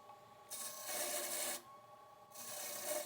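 A segmented fruit bowl spins on a wood lathe while a chisel cuts it in short passes. Two faint, raspy scraping bursts sit over a quiet hum of the motor.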